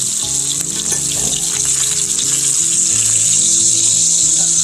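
New York strip steak sautéing in a pan, a steady bright sizzle running unbroken throughout, close and fairly loud, with faint low tones in the background.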